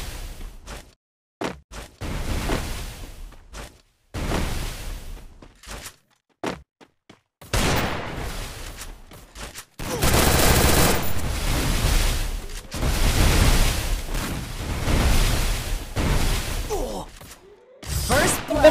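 Woodpecker gun firing in the Free Fire mobile game, repeated loud bursts of gunfire and explosive booms in uneven clusters broken by short silent gaps, with denser continuous firing in the latter half.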